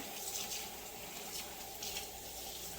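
Rehydrated dried seaweed is rinsed in warm water, a faint, soft, continuous trickle and splash of running water with gentle swells and no voices.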